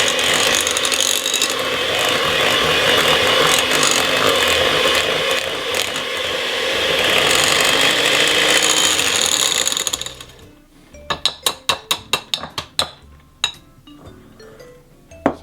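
Eggs mixed for Trinidadian banana bread batter, a loud continuous mechanical whirring rattle from an electric mixer for about ten seconds, then a string of sharp separate clinks and knocks against the bowl.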